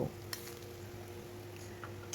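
Koi fish frying in hot oil in a pan over a medium gas flame, a quiet, steady sizzle with a few soft clinks near the start, no talk.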